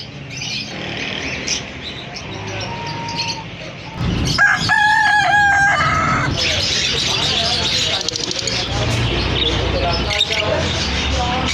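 Chickens cluck and a rooster crows loudly among the caged birds of a busy Karachi bird market, with people talking over the steady crowd noise.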